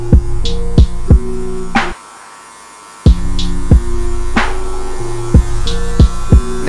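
Electric hair clippers buzzing loud and close while cutting a taper haircut, a steady mains-like hum broken by rhythmic snips and passes, with about a second of near silence partway through before the buzzing resumes.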